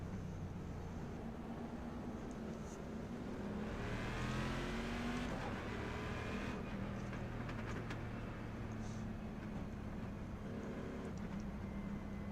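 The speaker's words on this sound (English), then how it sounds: "How good does that V8 sound though?" A V8 race car engine in the iRacing sim roars steadily with rising and falling revs as it accelerates through gears, a continuous loud drone with no talking.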